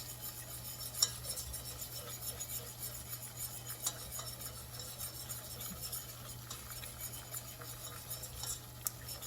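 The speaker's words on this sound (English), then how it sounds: "And continue cooking and mixing for several minutes." A spoon stirs flour cooking in a pan for tomato gravy, giving soft, faint scraping and light clinks of utensil against metal, steady and close, with no voices.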